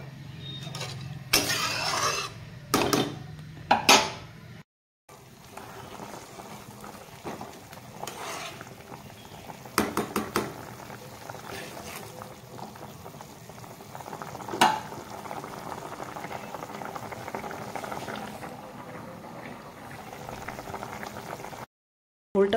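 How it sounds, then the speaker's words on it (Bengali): A brinjal curry gravy bubbles away in a pot, a continuous soft boiling burble with occasional louder clinks and stirring knocks near the start and a couple of brief breaks. "ঝোলটা ফুটে গেছে"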